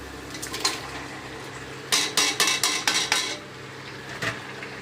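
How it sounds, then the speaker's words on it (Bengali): Meat being stirred into masala in a pot, a spoon scraping and clinking against the metal in a quick run of rhythmic strokes, with a few scattered scrapes before and after, close and clear with no talking. "মাংস দিয়ে দিয়েছি এবার একটু নাড়িয়ে দিই ভালো করে"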